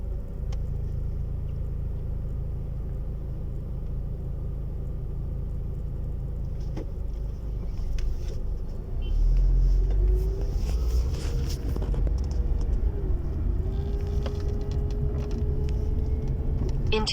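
Car driving a catering delivery route, a steady low engine rumble and road noise from inside the vehicle, with some rise in level and a few faint clicks and tones partway through.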